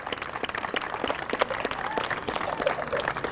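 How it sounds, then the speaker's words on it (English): Applause from a seated audience at a school playground dedication, steady dense clapping throughout with a few voices faintly mixed in. "Please give them a round of applause."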